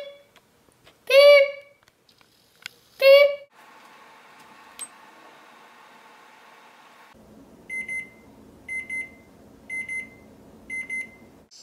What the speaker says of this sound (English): And then the timer went beep.